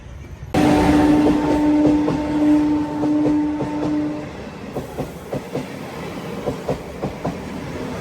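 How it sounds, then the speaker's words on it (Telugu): A Bangarpet MEMU passenger train sounds a long, loud horn blast, then rolls past with rhythmic clickety-clack from its wheels over the rail joints, the beats spaced evenly as the cars pass close by. "ఇది మెమో ట్రైన్."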